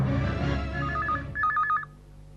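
A telephone gives short electronic warbling rings for an incoming call, two bursts in quick succession, coming in over a fading background sound before the line goes quiet.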